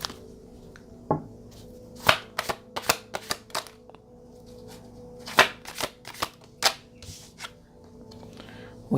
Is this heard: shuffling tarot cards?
yes